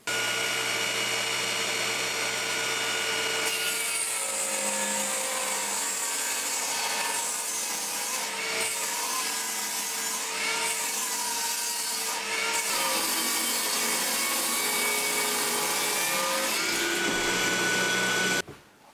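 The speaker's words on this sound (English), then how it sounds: "So what I'm going to do is rip off both edges on the table saw." A table saw rips the rounded edges off 3x2 timber in one continuous loud cut, a steady motor whine overlaid with rough wood-cutting noise that shifts slightly through the pass and stops abruptly at the end.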